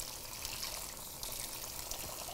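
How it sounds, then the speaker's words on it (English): Hot water runs steadily from a kitchen tap over knife blades as they are rinsed, a continuous close-up splashing rush with no talk. "You might want to like use some hot water and clean off the blades of the knife."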